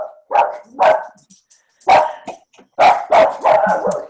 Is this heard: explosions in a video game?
no